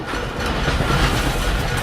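A train rumbles past loud and close in the game Dishonored, a dense rolling roar with a clattering rail rhythm that holds steady throughout.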